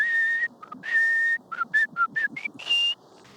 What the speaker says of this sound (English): He's like the happiest person in the world, whistling